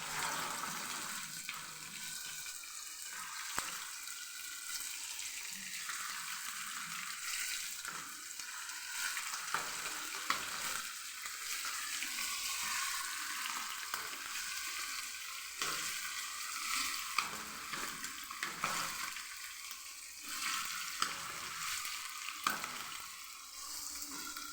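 Quail frying in hot oil, a dense, continuous crackling sizzle that stays fairly loud and steady throughout with small popping bursts and no speech.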